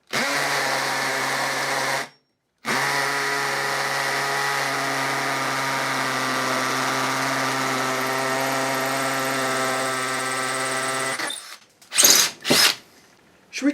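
A Bosch GSB 18V-28 cordless combi drill in hammer mode with an 8mm masonry bit boring into a concrete edging stone, a loud, steady buzzing hammer drone held for about nine seconds after a short burst, then brief final spurts.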